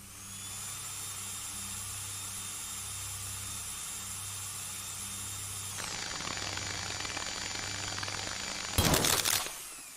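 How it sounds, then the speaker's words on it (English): A drill in the video game Stories Untold hums steadily alongside a low mechanical drone, its pitch shifting midway, then a sharp burst of harsh noise erupts near the end. "we need to turn on the drill"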